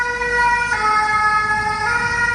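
Fire engine siren on a street near a school in France, a loud continuous wailing tone with steady harmonics that swells slightly as it passes nearby, with no voices over it.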